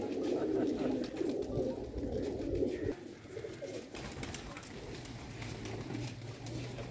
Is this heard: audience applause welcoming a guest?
no